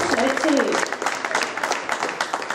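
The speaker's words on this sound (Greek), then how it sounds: "να ευχαριστήσουμε και να χειροκροτήσουμε τους χορευτές" An audience at a memorial event on Syros applauds a traditional dance troupe from the Peloponnese with steady, dense clapping that fills the space, with voices mixed in.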